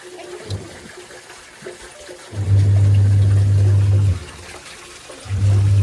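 A washing machine fills with water in bursts, a loud steady rushing inflow that runs for about two seconds, stops, then starts again, with faint background noise between.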